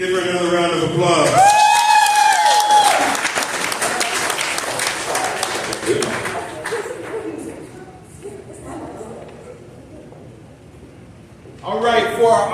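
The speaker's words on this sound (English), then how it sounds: "Give her another round of applause." An audience at an African American awards celebration breaks into loud applause, swelling over a speaker's voice before fading out as the clapping thins, then a fresh burst near the end.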